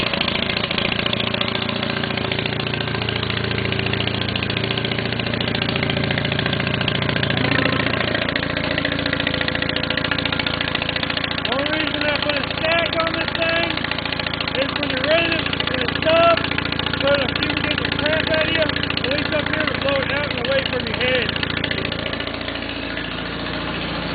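A Case 646 garden tractor engine runs with a steady, close mechanical drone, shifting in tone partway through as it fires and settles into a running idle, with someone talking over it.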